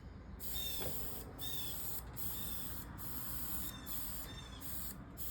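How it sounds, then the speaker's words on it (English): A Preval sprayer mists leather paint onto a car seat in a series of short, steady hissing bursts separated by brief pauses, quiet and close. "I want to start my spray and just a light, thin mist"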